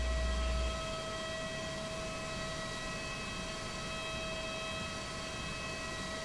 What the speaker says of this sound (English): The brake fan, for you guys who haven't heard it yet.